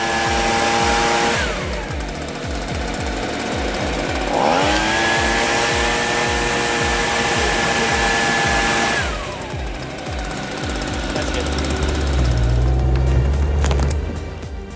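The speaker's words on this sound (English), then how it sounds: "Just grab a leaf blower and speed things up." A leaf blower roars steadily while blowing air onto a smoldering tree stump, loud and close with a droning whine that rises and falls in pitch as the throttle changes, and no talking.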